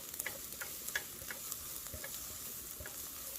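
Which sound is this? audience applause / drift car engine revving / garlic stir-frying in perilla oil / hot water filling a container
garlic stir-frying in perilla oil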